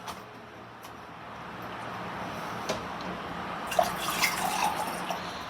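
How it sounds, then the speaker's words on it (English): Distilled water poured into a hydroponic nutrient solution, a soft continuous splashing trickle that grows fuller toward the end, heard alone at close range. "Then add my distilled water."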